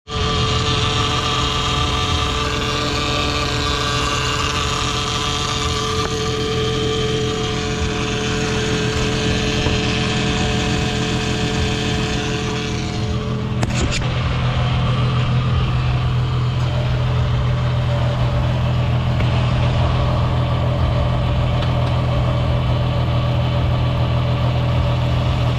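A Honda Odyssey engine with a leaking exhaust runs steadily and loudly at a constant hum for the whole stretch, with a brief shift partway through and no talking.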